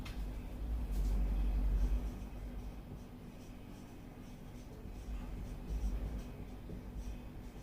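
Marker or chalk scratching across a board during an accounting lecture, a steady scraping strokes pattern over a low room rumble, close and without speech.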